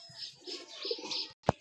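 A green-necked female racing pigeon held in the hand gives soft, close, murmuring coos, followed by a single sharp flutter or thump near the end.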